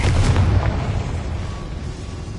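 A Confringo fire spell explodes in Hogwarts Legacy, a loud, rumbling burst at the start that rolls into a long, dense boom and fades slowly under continuing noise.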